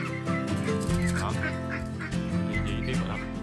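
A flock of ducks chased by a dog, quacking and honking frantically up close, overlapping calls in a noisy, agitated burst.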